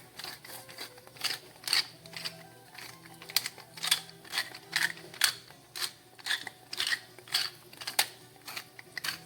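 A pepper mill grinding black pepper over a chicken and orzo dish, producing a quick series of dry, crunchy rasping bursts at a steady rhythm, close and fairly quiet.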